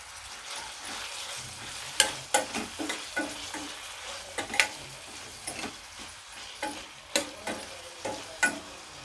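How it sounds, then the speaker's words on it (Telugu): Garlic, carrot and cabbage frying in hot oil for momos, a steady soft sizzle broken by irregular clicks and scrapes of a spoon stirring in the pan, no voices. "ఆయిల్ హీట్ అయ్యాక గార్లిక్ వేసుకోవాలి. కట్ చేసుకున్న క్యారెట్ వేసుకోవాలి. క్యాబేజీ వేసుకోవాలి."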